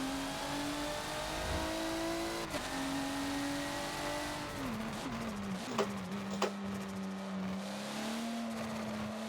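A race car engine revs under throttle in the Forza video game, lapping the Bathurst track. It gives a loud continuous drone that climbs and drops with shifts, plus brief squeals near the end and no talking.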